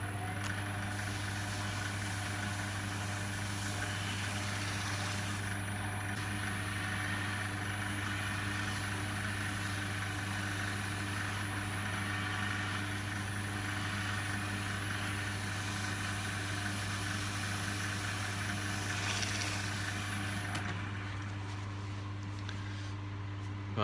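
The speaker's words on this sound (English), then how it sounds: "I'm going to put this on with the lathe running." A wood lathe runs steadily while Sheila wax is applied to a spinning wooden bowl. It gives a continuous low motor hum with a faint rubbing hiss on top that fades slightly near the end.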